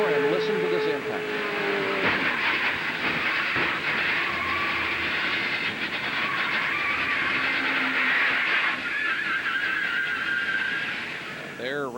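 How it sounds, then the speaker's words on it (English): Roaring engine and rushing wind from an onboard camera in Dick Trickle's Snyder Trucking stock car during a crash at the 2000 NASCAR Busch Series Touchstone Energy 300, loud and continuous for about twelve seconds, with voices over it. "Once again, Dick Trickle, Snyder Trucking onboard camera, and listen to this impact."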